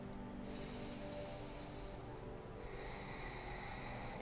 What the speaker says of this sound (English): Finding your Ujjayi breath.